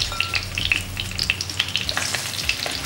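Bitter gourd pieces fry in hot oil with a bright, busy crackle of close spits and pops over a constant sizzle. There is no talking.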